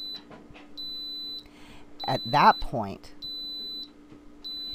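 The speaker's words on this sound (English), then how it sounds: "once it's done, it will beep several times to let you know it's done" An Instant Pot pressure cooker making chicken stock beeps several times when cooking finishes. The short, high, thin beeps repeat at steady intervals, and a voice briefly talks over them partway through.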